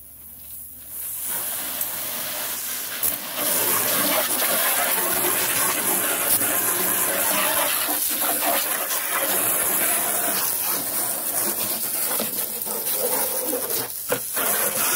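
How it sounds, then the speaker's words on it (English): A garden hose sprays water steadily to rinse out the removed windshield washer fluid reservoir of a C5 Corvette, a loud continuous hissing gush after a brief start, with no speech. "I might as well hose it off so I can rinse the inside of this really clean"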